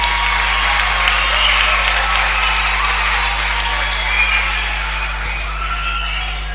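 An audience at a church presentation breaks into sustained applause, a dense, steady wash of clapping that holds for several seconds over a low electrical hum before slowly thinning out.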